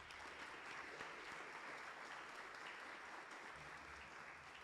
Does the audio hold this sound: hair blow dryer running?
no